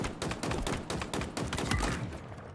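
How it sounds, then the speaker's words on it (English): Rapid gunfire in Halo Infinite, aimed at the player, rattles out in a quick succession of sharp shots, a steady burst that fades slightly toward the end, with no talking over it. "How are you shooting me from over there?"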